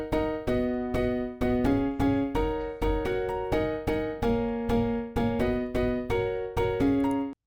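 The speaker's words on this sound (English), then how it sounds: "So basically we're gonna layer our Korg M1 Grand Piano with some piano texture." A house piano from the Native Instruments MK Sonny plugin plays short, punchy chord stabs in a steady syncopated rhythm, about twenty bright hits shifting between a few chord voicings, each cut off cleanly.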